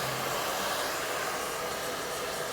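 A hair dryer runs steadily throughout, blow-drying hair at close range in a salon-style blowout, a loud continuous whoosh with no talking.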